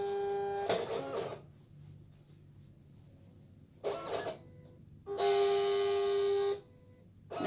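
A Silhouette Cameo 4 cutting machine cuts fabric for face masks, its motor whirring in three separate bursts, a short one, a shorter one and a longer final run, with quiet pauses between.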